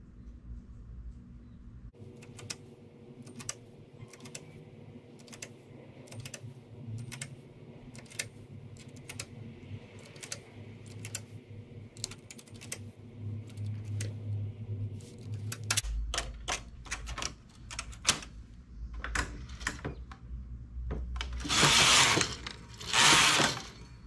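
A knitting machine carriage runs across the needle bed, knitting a child's hooded poncho from three strands of wool at tension setting 8. Steady rhythmic clacking continues throughout, then gives way to louder, harsher rasping sweeps near the end. No one speaks.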